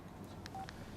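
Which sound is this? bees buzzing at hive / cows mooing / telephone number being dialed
telephone number being dialed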